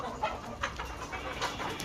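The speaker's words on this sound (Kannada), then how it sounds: "ಪಕ್ಕ ನಾಟಿ ಕೋಳಿ." Native country chickens on a farm, a few short soft clucks and calls scattered over a brief stretch amid general outdoor background noise, no talking.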